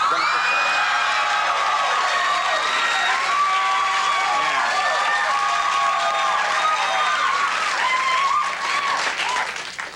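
Studio audience at a 1999 late-night talk show bursts into sustained applause with cheers and whoops, loud and dense throughout, easing slightly near the end.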